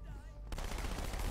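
SMG fire from Halo 2 breaks out halfway through as a dense, loud, rapid burst that fills the rest of the short stretch.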